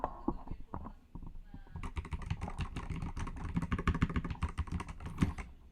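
Mechanical keys clatter in fast, dense typing bursts, close up, after a few scattered clicks at the start, recorded through a FIFINE AM8 microphone with the keyboard in front of it.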